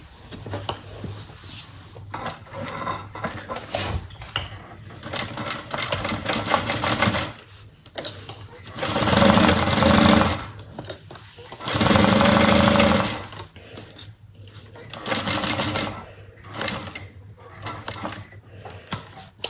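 A sewing machine stitches a bucket bag in short, loud rapid bursts of mechanical rattling, with quieter handling noises and brief pauses between runs.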